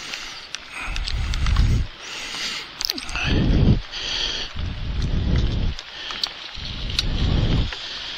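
Heavy rain from a hurricane pours steadily throughout, with loud low rumbling gusts swelling and fading in repeated waves over the dense patter.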